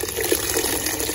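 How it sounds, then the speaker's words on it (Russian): Freshly boiled water from a second kettle pours steadily into a soup pot while borscht is being cooked, a continuous close gushing splash with no speech. "И выливаем 2-й чайник"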